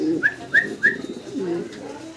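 A pair of Madrazi Golla pigeons coo close by, three rising calls in quick succession followed by a lower, rolling coo, with no talk over them.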